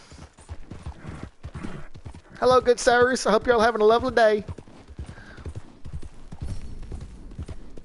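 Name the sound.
horse hooves clip-clopping in a video game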